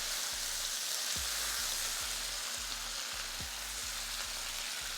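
Minced garlic and rosemary frying in butter, a loud, dense sizzle with a regular thudding rhythm from the stirring, close up and continuous.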